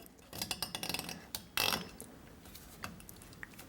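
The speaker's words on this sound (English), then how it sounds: "So now we're going to have 2 zip ties on the capacitor." A zip tie ratchets tight around the starting capacitor of a Dayton bench motor, giving a quick run of small plastic clicks up close, then a sharper handling rustle and a few scattered taps.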